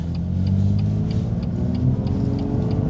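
A BMW M2 Competition with its S55 engine on a morning drive, a steady mid-pitched engine hum heard from inside the cabin, with faint regular ticking over the top and no talk.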